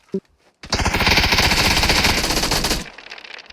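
Sustained burst of rapid automatic gunfire in the video game PUBG, loud and close, rattling for about two seconds before cutting off, preceded by a brief click.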